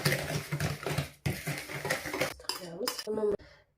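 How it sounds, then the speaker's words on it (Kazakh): Sugar is mixed with eggs in a bowl for an apple crumble pie, a close, busy scraping and clattering of a utensil against the bowl that pauses briefly, then ends in a few sharp clinks. "Қантымызды араластырамыз."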